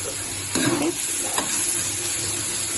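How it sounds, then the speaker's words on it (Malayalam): Green chillies sauté in hot oil in a pan, giving a steady close sizzle with one louder scraping stir near the middle and a softer stir a little later. "പച്ചമുളക് ഇട്ട് കൊടുക്കണം. ഇത് ഇനി ഇതൊന്ന് നല്ലപോലെ വഴറ്റാം."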